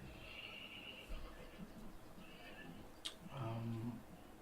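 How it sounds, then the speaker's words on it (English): Horse outside neighing in a long, loud whinny, heard faintly and at a distance behind indoor room tone, with a few voices murmuring in the background. "Someone outside can't control their horse."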